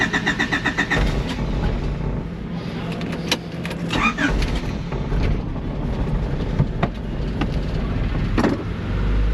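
A car engine at a repair shop starts up after its control module is programmed. A short rhythmic cranking gives way to a steady idle that runs loud and close, with a few clicks and knocks over it.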